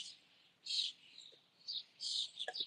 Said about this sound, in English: Can you guys hear all those birds in the background?